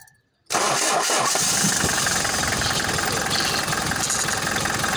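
A Hyundai H-100 van engine cranks and catches after a brief silence, then settles into a steady, loud, rough idle with knocking vibration, close by and without speech.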